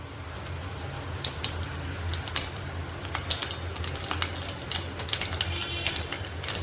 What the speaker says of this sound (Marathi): राई टाकूया. राई तडतडली